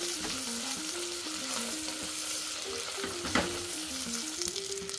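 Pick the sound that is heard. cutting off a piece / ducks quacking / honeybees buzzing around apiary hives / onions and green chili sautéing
onions and green chili sautéing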